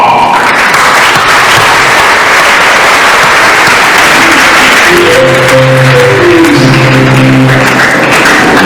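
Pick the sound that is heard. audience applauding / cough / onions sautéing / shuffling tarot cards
audience applauding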